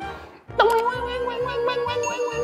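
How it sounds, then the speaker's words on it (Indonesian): A notification bell sound effect rings out as a bright, sustained metallic ding with a few shimmering repeats. It lasts about two seconds after a short quiet start. "jangan lupa tekan tombol loncengnya sampai bunyi"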